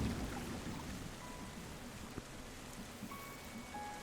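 Rain falls in the video game Terra Nil as a soft, steady, even hiss that stays faint and unbroken, with no voices.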